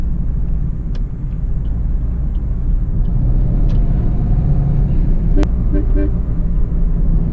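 A Maruti Suzuki Dzire VDi AMT car accelerating produces a loud, continuous engine rumble and road noise, with a brief sharp knock partway through.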